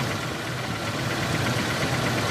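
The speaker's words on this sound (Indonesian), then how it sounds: "Kita coba bandingkan suara mesin sebelum dan sesudah dilakukan" A car engine idles steadily before an engine flush treatment meant to clear carbon deposits, giving a continuous, fairly even running drone with a faint knocking texture, heard alone at close range.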